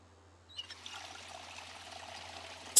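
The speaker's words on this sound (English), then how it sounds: "Let's fill up our water." Water pours steadily into a container in the survival game Project Zomboid, a soft continuous trickle that starts after a short quiet moment and runs alone at low volume.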